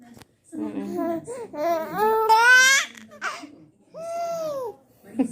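A baby babbles loudly and close up in a run of rising, squealing vocal sounds with short pauses between bursts, ending in a long drawn-out coo.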